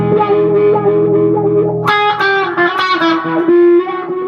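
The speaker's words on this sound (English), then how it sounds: "And of course the wah-wah." Electric guitar with a sweeping wah effect, notes swelling and shifting in tone, played loud with a full, sustained sound and no voices.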